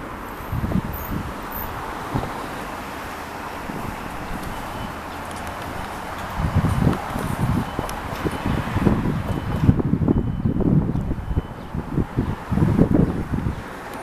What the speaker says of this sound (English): It's windy, as you can see the trees blowing.